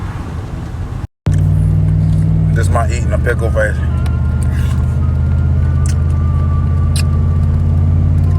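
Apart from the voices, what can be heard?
old 1991 pickup truck engine driving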